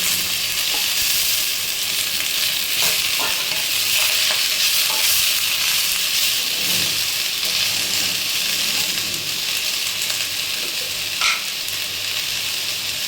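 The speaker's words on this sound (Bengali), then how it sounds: "এবার আমি এর মধ্যে খারকুল পাতাগুলো দিয়ে দিচ্ছি" Kharkol leaves frying in a pan with chilli and garlic, a steady, close sizzle that holds throughout with light stirring scrapes and no talk.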